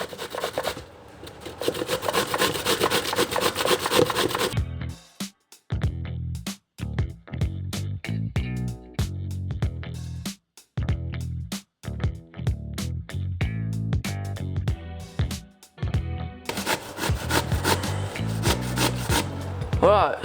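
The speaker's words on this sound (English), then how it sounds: "we've got our courgette grated" Skin-on courgette scrapes over the coarse side of a grater in continuous rasping strokes, loud and close, with short pauses between runs.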